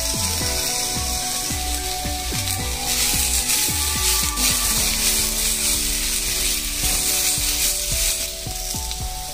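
Unpeeled garlic cloves fry in hot oil in a pan, a loud continuous sizzle with repeated rhythmic scraping and stirring knocks, close and without talk.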